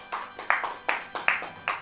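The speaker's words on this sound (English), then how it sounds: "Please, one round of applause for Lufenia" Sparse handclaps from a single person or a few people, about seven sharp claps in an uneven rhythm, close and moderately loud.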